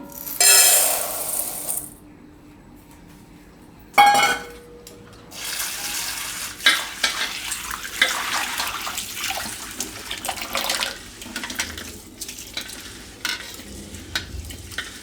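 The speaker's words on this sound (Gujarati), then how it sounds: "હવે આપણે આ મસૂર છે આખી, એને આપણે ધોઈ નાખશું 2-3 પાણીએ" Whole masoor lentils rinsed in water in a kitchen, with sloshing and stirring splashes that come in uneven bursts, a brief pause partway through, then steady swishing close by with no talking.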